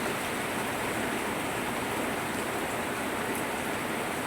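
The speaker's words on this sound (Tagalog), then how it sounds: "grabe yung ulan dito mga idol. Walang tigil mula kagabi hanggang ngayon." Heavy rain pours down without pause after a night-long downpour, a dense, even roar of water filling the air at constant loudness with no other sounds.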